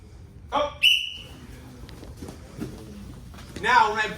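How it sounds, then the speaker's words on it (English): A sharp whistle blast sounds once, near and loud, during an MMA class, amid shuffling movement and a voice calling out. "until I blow the whistle to get up"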